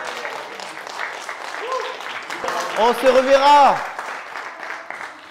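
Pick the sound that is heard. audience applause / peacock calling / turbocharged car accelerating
audience applause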